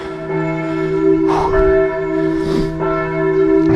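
A church bell rings out loud and near, with several struck tones overlapping into a long, humming resonance, and no talking.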